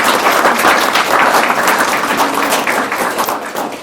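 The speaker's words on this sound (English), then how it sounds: "I think a round of applause." Wedding guests break into loud, dense applause at a ceremony, many hands clapping close and sustained, tapering slightly toward the end.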